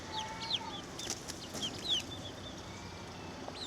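Month-old chickens clucking in an outdoor spring pen with rabbits nearby, soft scattered clucks and chirps against a steady background hiss, with no one talking.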